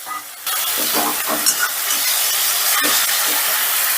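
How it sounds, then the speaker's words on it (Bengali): Water poured into sizzling spice paste with soft tomato in a pan, bursting into a loud steamy hiss and crackle that carries on with scraping stirs for a few seconds. "এবারে দিয়ে দিচ্ছি অল্প একটু জল যাতে মশলাটা তলায় না লেগে যায়"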